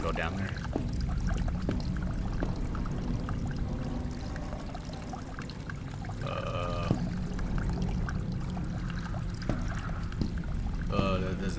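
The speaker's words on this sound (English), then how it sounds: "Drain water from the lower floor." Water draining from a lower floor in the horror game Lazaret, a continuous rushing pour with trickling and sloshing that runs steadily throughout, accompanied by occasional clanks and a person talking over it.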